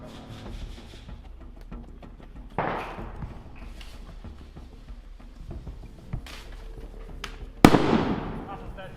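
During an airsoft operation, a bang pyrotechnic grenade goes off with a sharp, loud burst near the end, following a few duller thumps over a steady background rumble.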